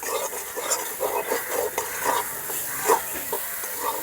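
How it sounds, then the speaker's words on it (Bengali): Ground spices and pea filling stirred and lightly fried in a pan, giving a soft, steady sizzle with scattered scraping taps of a spoon against the metal throughout, close and alone. "সামান্য একটু ভাজা ভাজা করে নেব।"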